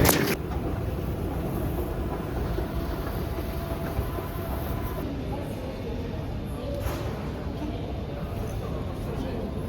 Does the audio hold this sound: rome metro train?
yes